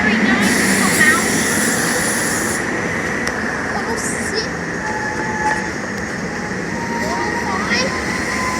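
SEPTA Silverliner IV commuter train pulling into Fern Rock station, a steady loud rumble of rail cars and wheels running close by throughout, with someone talking briefly over it.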